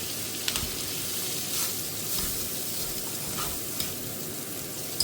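Pansit noodles are stirred in a well-used frying pan, giving a continuous close hiss and sizzle with soft, irregular stirring scrapes and a few light knocks.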